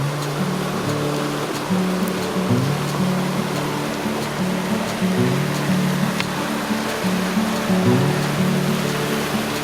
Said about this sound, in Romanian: Ascultăm apa